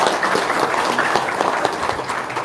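Audience applause at a religious gathering honouring a benefactor of orphans, a steady dense wash of many hands clapping close by, even in level throughout with no speech over it.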